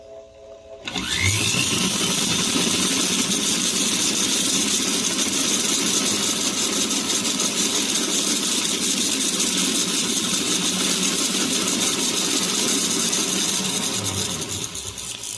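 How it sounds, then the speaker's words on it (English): Rubber silicone buffing wheel grinding burrs off a spoon ring, a loud, steady abrasive whirring rasp that starts abruptly after a quiet second and runs continuously close by, with no talking. "This is a buffing, rubber silicone buffing round. And we're just going to get the burrs off."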